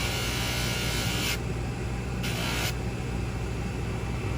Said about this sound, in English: Until those scratches are out from the belt sander.